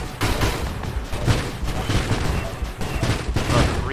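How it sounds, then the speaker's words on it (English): Missiles launch in rapid bursts in NOVA Drift, a loud, crackling volley of repeated shots fired at a mini-boss. The shots run steadily through the whole moment, with no voices. "Shoot some missiles."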